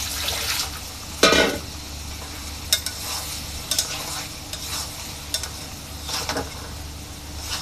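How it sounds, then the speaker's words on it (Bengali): Rui fish being sautéed with onion and spices in a pan, a steady low sizzle broken by several sharp scraping stirs of the spatula, close and moderately loud with no talking. "আমার মাছটা কষানো হচ্ছে"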